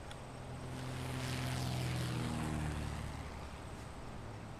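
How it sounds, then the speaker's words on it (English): A propeller airliner in the Airport CEO airport-management game takes off from a freshly built runway, its engine drone swelling to a peak and then easing off as it climbs away, heard alone. "somebody's already taken off from our new runway"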